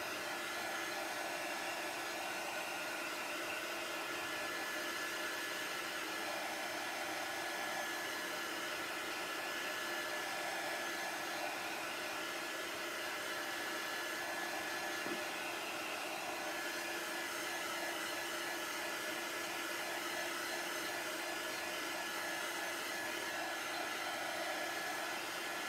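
A hair dryer drying paint on a sticky mat runs as one continuous steady whirring blow for the whole stretch, even and fairly close, with no talk over it.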